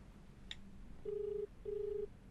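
A phone dials out to call a cellphone: a brief electronic tone, then two steady long ring-back tones with a short gap between them, close and clear with no voices over them.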